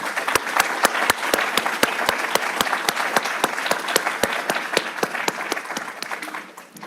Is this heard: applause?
yes